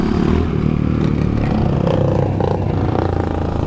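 A Honda CRF 230 trail motorcycle ridden on a dirt trail, its engine droning steadily and loudly up close, with rattling and scraping over rough ground.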